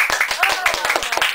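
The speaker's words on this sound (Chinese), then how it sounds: "来拍拍手" An audience at a post-screening discussion of the film Goodbye Bafana claps in a quick, even rhythm of close, sharp hand claps, with people talking over it.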